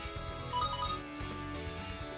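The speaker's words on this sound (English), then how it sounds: "Why did it just make a bing bong noise?" A two-note bing bong chime in the video game La-Mulana 2, bright electronic tones ringing over the game's background music, moderately loud, with no talk.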